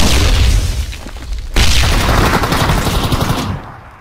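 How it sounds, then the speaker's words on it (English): A grenade blows up in a first-person shooter match, a loud, close boom that spreads into a heavy, roaring burst. A second blast follows about halfway through before the sound fades out. "A grenade coming in."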